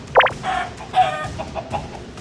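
Minecraft chicken clucking in a few short, bright calls spread across the moment, close and clear over a soft game background, with no talk.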